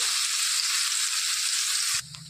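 A ground egg pickle mixture hits hot oil with a loud, dense, hissing sizzle that holds steady up close, then cuts off abruptly near the end, leaving a low hum.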